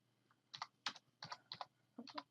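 Quiet bursts of typing on a computer keyboard, about six short clusters of clicky keystrokes with brief pauses between them, close and soft, with no talk.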